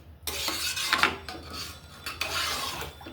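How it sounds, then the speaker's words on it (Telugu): A spoon scrapes and rasps steadily through Telangana-style bagara rice in a metal pot, a continuous gritty stirring with a couple of louder metallic knocks and no talking. "ఒకసారి కలిపేసుకోవాలి బాగా"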